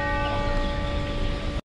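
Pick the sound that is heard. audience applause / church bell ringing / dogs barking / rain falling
church bell ringing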